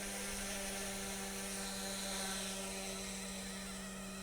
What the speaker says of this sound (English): Tail's a little twitchy on spool up until the RPMs come up on the head